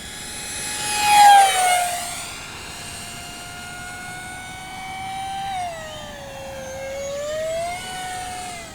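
An H-King F-18 Super Hornet 50mm 12-blade EDF model jet on 4S power, made of EPO, flies past with a loud, rising-and-falling high-pitched ducted-fan whine that peaks close in as it sweeps by, then holds a steady, shifting whine as it banks away.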